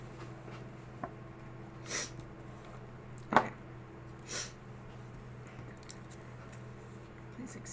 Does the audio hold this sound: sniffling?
yes